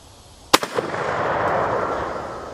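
A single sharp rifle shot from a Royal Tiger Imports No1Mk3 cracks out at an outdoor range, loud and close, followed by a couple of quick echoes and a long rumbling decay.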